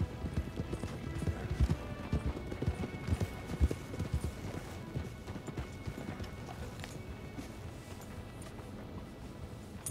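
Horses galloping in Red Dead Redemption 2, a steady, fairly close clip-clop of hooves over faint background music, heavier at first and easing toward the end.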